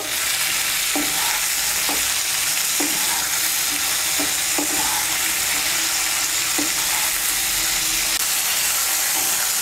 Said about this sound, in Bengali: তেলের সঙ্গে মিশিয়ে নিয়ে শিমটাকে একটু ভেজে নেব